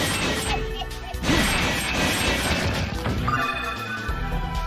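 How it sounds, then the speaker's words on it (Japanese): A monster in the Phantasy Star Portable 2 Infinity video game lets out a growling roar amid dense battle noise, with crashing hits and whacks layered over a constant loud game mix. "听到有怪怪的声音应该是那个怪物声音"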